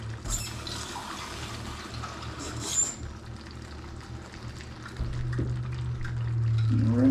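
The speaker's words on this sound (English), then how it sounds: "And rinse out the can with about half a can of water" Water is poured into a tomato sauce can to rinse it for homemade chili, giving a gentle splashing, trickling flow that swells and grows louder toward the end, close by in a kitchen with no one talking.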